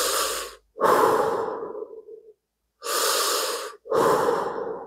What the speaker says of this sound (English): we're going to do 3 breaths in through the mouth and 3 breaths in through the nose.